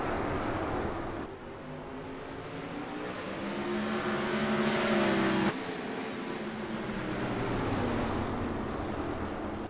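Race cars of the Spike Chassis Series lapping the track at New Smyrna, their engines a loud, continuous drone that climbs and falls in pitch as several cars accelerate and pass, with no voices.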